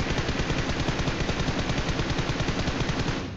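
Rapid sniper rifle fire in a first-person shooter game, a dense string of sharp, loud shots in quick rhythm filling the whole moment with no talk.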